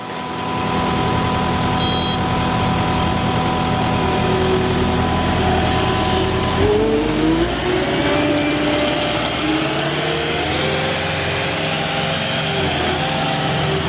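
A Kubota skid loader's diesel engine runs steadily and loudly nearby, a constant droning hum with a shift in pitch partway through as the machine revs.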